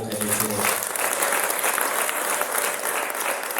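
A crowd at a Rwandan wedding gives a long, dense round of applause for the couple, loud and steady throughout, with faint voices mixed in near the start.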